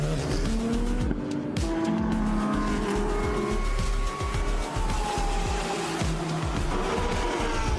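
GT3 race cars roar through the first corner at the 24H Dubai, engines loud and close with shifting pitch, tyres squealing as the pack passes side by side.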